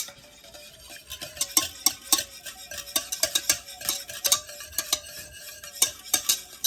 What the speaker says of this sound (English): Now mix the coffee and milk together.